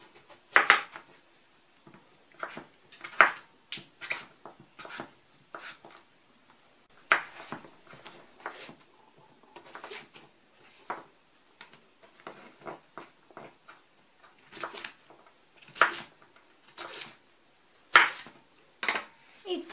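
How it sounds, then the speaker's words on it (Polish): Kitchen knife slicing fresh unpeeled zucchini into thin strips on a board for a summer vegetable soup, a steady series of crisp close chopping taps with short pauses between bursts. "Cukinię także pokroję w paseczki."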